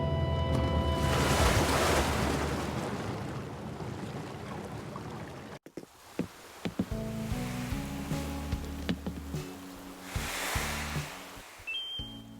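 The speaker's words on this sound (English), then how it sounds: "We'll be making a water landing, but that's okay because this is a seaplane." A seaplane lands on the water: a long rush of wind and spray is cut off abruptly midway, followed by lapping water, knocks and a low engine drone.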